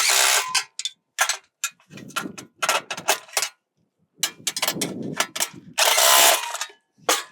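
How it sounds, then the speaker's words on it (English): An impact wrench fitted with a 13 socket tightens bolts while a one-way gravity gate is installed, giving loud, close bursts of rattling hammering separated by short pauses and quieter clanks. "we're going to use a 13 wrench in the impact"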